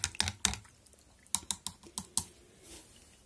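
A wooden stick stirs orchid fertilizer solution in a container, giving a quick series of sharp, close clicks and taps with short pauses between them.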